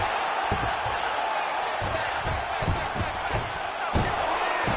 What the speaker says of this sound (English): Oh, the crowd really enjoyed that one.